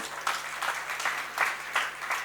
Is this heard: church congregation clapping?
yes